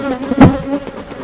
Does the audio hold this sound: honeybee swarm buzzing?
yes